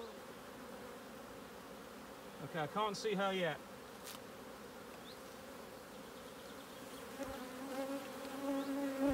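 Honeybees drone steadily around hive frames in an apiary during queen-cell building, a dense continuous buzz that swells slightly toward the end, with a short burst of nearby talking in the middle.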